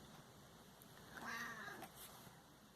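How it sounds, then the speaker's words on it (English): A cat meows for attention with one faint, drawn-out cry near the middle, heard at a distance over steady background hiss. "my cat wants to come up and have attention"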